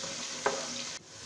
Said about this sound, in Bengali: পেঁয়াজটাকে কিছুক্ষণ ভেজে নিতে হবে।